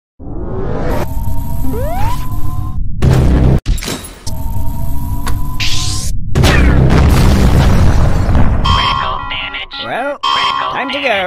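A Supreme Dominance superweapon in the Henry Stickmin video game fires with a loud, sustained booming blast and rumbling explosions, punctuated by sharp cutoffs and alarm-like tones, with game voices talking over it.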